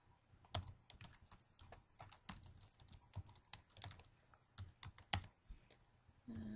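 Someone types on a computer keyboard, a quiet close-up patter of irregular key clicks in short bursts with brief pauses, and no talking.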